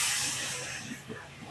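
Water hits a hot pan of frying jackfruit kofta curry mixture, and a loud, steady hissing sizzle bursts up close, then gradually softens over a second and a half.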